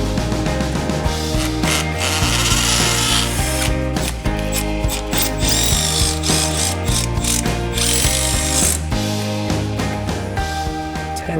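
A ratchet mechanism cranks steadily and loudly while a clamp is tightened during work on a dual Kranzle pressure washer setup, a continuous mechanical clicking that runs unbroken with no talk over it.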